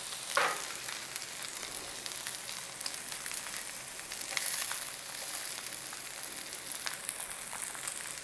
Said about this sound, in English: take our meat, fat cap down on there, and we cook it for about 3 to 5.